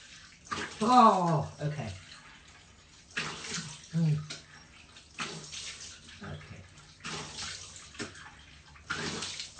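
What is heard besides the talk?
tap water running for rinsing off face cleanser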